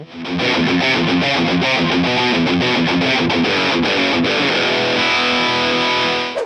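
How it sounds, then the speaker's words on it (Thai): Heavily distorted electric guitar through a Lichtlaerm Audio Medusa death metal distortion pedal, emulating a Boss HM2, chugs and riffs loudly and continuously in a saturated metal tone, ending as the last chord rings out. "ก้อนนี้นะครับก็เป็นก้อนเสียงแตกแนวเมทัล"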